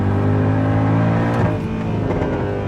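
A Mercedes W204 C63 AMG accelerating hard in second gear on a wet road gives a loud, close, continuous engine roar with strong low harmonics that builds steadily.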